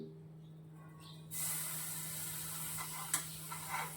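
Butter melting in a pan for palak paneer: after a second of quiet low hum, a steady bright sizzle starts and holds, close and fairly loud, with a few small pops near the end.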